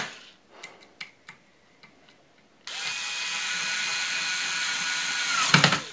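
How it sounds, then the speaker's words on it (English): Power screwdriver driving screws into a router base plate for a DeWalt DWP611 or Porter-Cable router, a few faint ticks first, then a sustained loud whirring drive that ends with a clunk. "Now you can use a hand screwdriver if you want to. I kind of like the power one"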